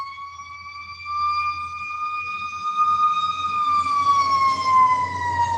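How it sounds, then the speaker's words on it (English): Ambulance sirens outside sound a sustained wailing tone that rises in loudness and slowly bends downward as they pass, over faint background rumble. "The sirens are going"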